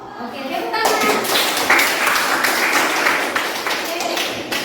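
A class of children clapping hands in a classroom, a burst of continuous close applause lasting several seconds, with voices mixed in.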